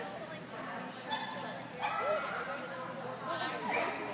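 A dog yips and barks excitedly while running around during what seems to be a training session, with short whimpering bursts mixed among people talking nearby.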